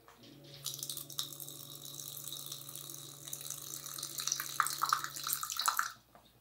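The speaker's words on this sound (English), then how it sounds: "The setup I have is a aquarium pump inside a Brita filter, powered by an Arduino and an IR sensor" A small aquarium pump set inside a Brita water filter jug runs with a steady low hum while water pours and splashes into a container, the flow growing busier before cutting off near the end.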